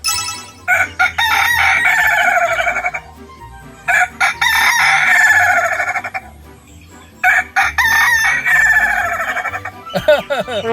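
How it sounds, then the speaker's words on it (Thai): A rooster crows several times in long, wavering, cackling bursts that sound almost like laughter, with brief pauses between calls. "เสียงขันฟังแล้วจะคล้ายกับเสียงคนหัวเราะครับ"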